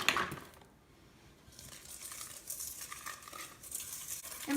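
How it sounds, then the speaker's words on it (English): Sugar pours into a mixing bowl for vegan zucchini bread, a soft, granular hiss that swells and rustles for a few seconds after a brief crinkle at the start. "so I'm going to put my sugar in there"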